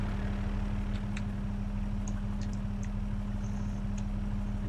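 Tractor engine in the farming game Cattle and Crops idling steadily with a low, constant hum, close and unchanging, with a few faint clicks above it.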